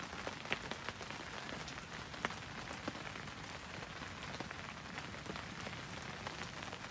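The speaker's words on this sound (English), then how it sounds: "it's still raining away quite heavily" Heavy rain falls outside during wet-weather hammock camping in a storm, a dense, steady patter of drops on surfaces with occasional sharper taps, continuous and fairly soft with no voices.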